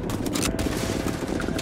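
Gunfire from the player's gun in Starfield, a dense, loud rattle of rapid shots over a short burst with no voices.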